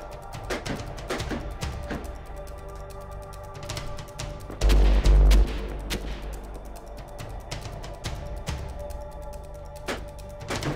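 Bursts of gunfire from an amphibious assault vehicle's turret, which mounts a 12.7mm heavy machine gun and a 40mm automatic grenade launcher, with repeated sharp reports over steady background noise and a heavier thumping burst near the middle.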